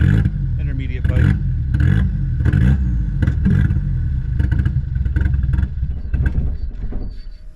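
Nissan 240SX with a turbocharged SR20DET engine, running with only a downpipe and intermediate pipe, revs in repeated throttle blips and stumbles as it fails to hold an idle, loud and close inside a garage.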